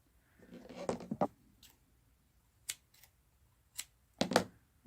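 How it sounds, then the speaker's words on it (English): Scissors snipping knitting yarn ends on a tiny knitted figure, several short, crisp close-up clicks in small clusters with quiet gaps between them, no talking. "And then I will snip those ends again."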